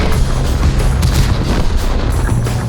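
Loud, dense gunfire and booming impacts striking a T-28 tank in a tank combat video game, a continuous rumbling barrage with sharp hits throughout.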